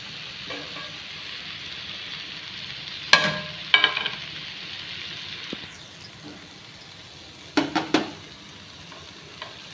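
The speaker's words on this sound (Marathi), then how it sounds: "हे पहा सगळं मिक्स करायचं आहे असं." Pigeon pea usal mixture stirred in a pan, soft scraping and light sizzling with a few louder spoon clatters against the pan, close and alone.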